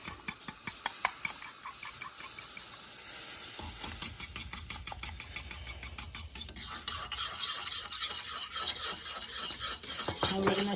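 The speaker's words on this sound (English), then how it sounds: "we're going to stir this for a total of 2 minutes continuously" A whisk stirs Korean steamed egg mixture in a pot over low heat, a continuous rapid ticking scrape against the pot that grows busier and brighter as the stirring goes on.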